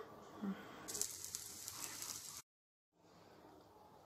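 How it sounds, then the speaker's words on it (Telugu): Bread coated in besan batter fries in oil in a pan on a stove at medium flame, giving a steady close hiss and crackle. It drops out briefly, then returns softer. "అలా లైట్గా ప్రెస్ చేస్తూ స్టవ్ మీడియం ఫ్లేమ్లో ఉంచి కాల్చుకోవాలి"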